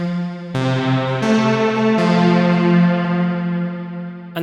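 Sustained Baby Audio BA-1 synthesizer chords drenched in reverb, with three stacked notes entering one after another and ringing into a long, smooth tail; loud and clear with no voices.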